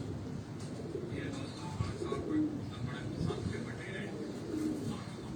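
A female Sialkoti pigeon cooing softly among other birds on a rooftop loft, low murmuring coos repeating against a busy, fairly quiet background.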